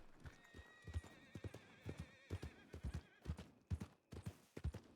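Horse hooves clip-clop at a steady riding pace in Red Dead Redemption, a continuous run of close, distinct beats with a faint tonal background and no talk.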